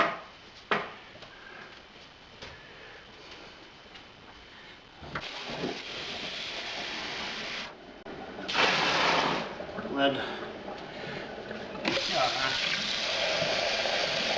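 Water is poured into a homebrew vessel for an Australian Pale Ale in several splashing bursts, some short and some sustained, mixed with handling clatter and a few knocks.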